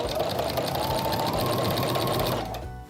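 A sewing machine fitted with a walking foot stitches steadily through quilt layers, loud and close for nearly three seconds before slowing to a stop.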